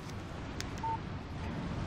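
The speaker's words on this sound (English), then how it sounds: "Text message from Barry." A short, clean electronic alert tone from a phone receiving a text message in the Alan Wake video game, a single brief beep sounding alone over a faint ambient background.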